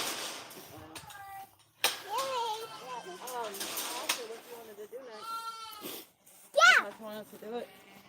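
Goats bleat on a farm during chores, several wavering calls with a loud one near the end, mixed with children's and adults' voices talking nearby.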